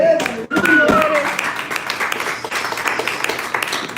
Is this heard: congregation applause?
yes